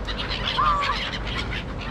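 Waterfowl call at Lake Windermere among Canada geese, swans and terns: one short honking call rises clearly over a steady bed of distant bird chatter and outdoor noise.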